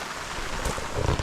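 Steady rain hisses close by during a Ganpati festival in Konkan, a dense wash of noise with a few heavier low thumps toward the end.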